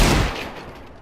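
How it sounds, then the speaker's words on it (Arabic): Desert Eagle pistol fired in Counter-Strike: Global Offensive: one loud, sharp shot right at the start that fades into a reverberant tail, with no voices. "انا بفضل الايجل لان بطلقه واحده في الدماغ بتخلص"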